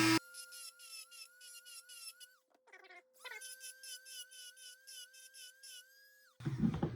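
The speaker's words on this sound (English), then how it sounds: "I'm just going to grind this one down." A tool grinds down a small nubbin on a proton pack prop with a high, buzzing whine. It runs in two close bursts separated by a short pause, then ends with a rougher scraping noise.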